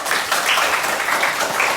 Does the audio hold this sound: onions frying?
no